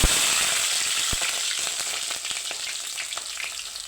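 Cumin, mustard seeds and green chillies fry in hot oil on a low flame for a brinjal and moong dal curry, with a dense, close sizzle and scattered sharp crackles and pops throughout.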